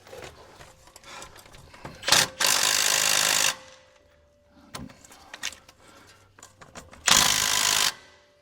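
A small power tool strains against big bracket bolts on a 2001 Ford Super Duty truck during brake work, with two loud sustained buzzing bursts separated by quieter clicking and handling noise.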